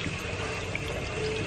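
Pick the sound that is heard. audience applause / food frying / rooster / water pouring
water pouring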